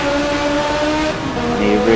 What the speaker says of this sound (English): you can hear him testing the throttle to try and get the traction